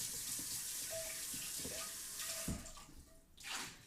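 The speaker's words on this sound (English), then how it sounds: "I'm gonna do a quick rinse off" Running tap water splashes into a kitchen sink during a quick rinse, a steady close hiss of flow broken by a few clinks and shifts as the item is turned under the stream.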